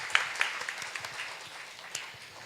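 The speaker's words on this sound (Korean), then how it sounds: "여러분들 큰 박수 부탁드리겠습니다" Soft applause from an audience at a burn treatment conference Q&A, a thin scattering of claps, a few sharper ones early, fading gradually over two seconds.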